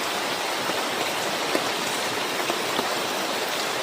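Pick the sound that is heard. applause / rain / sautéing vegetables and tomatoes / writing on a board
rain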